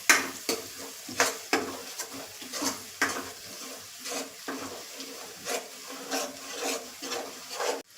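Spoon stirring a garlic and green chili raita mixture with turmeric in a bowl, giving a steady run of soft scraping strokes at an even rhythm, close up, with no talking.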